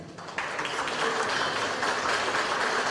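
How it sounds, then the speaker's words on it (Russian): Audience at an art exhibition award ceremony bursting into applause, a dense, steady clapping that starts suddenly and holds, fairly near, with no voices over it. "Это заслуженная награда и заслуженные аплодисменты"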